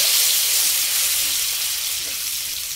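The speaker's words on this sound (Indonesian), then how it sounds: "Setelah minyak panas, kita tumis bumbu yang sudah dihaluskan tadi." Ground spice paste sautés in hot cooking oil in a wok, a loud, steady close sizzle with no voices.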